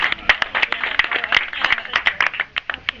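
An audience applauds a state representative at a gathering, with close, crisp clapping from a modest crowd that is steady at first and then thins into scattered claps.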